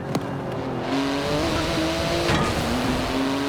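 Porsche GT2 RS in Forza Horizon 4, its engine droning steadily and rising in pitch as it accelerates, loud and close throughout with faint navigation voice prompts.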